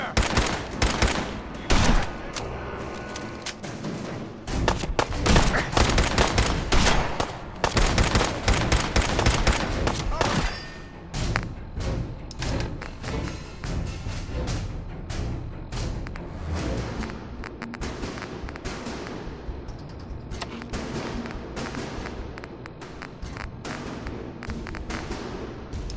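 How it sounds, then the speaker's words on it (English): Covering gunfire rattles through a Fallout 4 firefight in dense rapid bursts, very loud and crowded during the first ten seconds, then a thinner but steady run of shots that carries on to the end. "Covering fire!"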